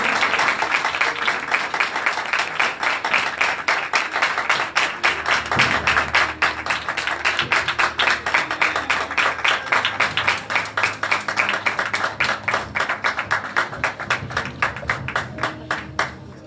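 A church congregation at a Christmas gathering applauds loudly and continuously, a dense, sustained wash of hand clapping lasting the whole stretch with no speech over it.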